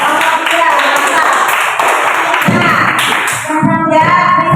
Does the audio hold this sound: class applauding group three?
yes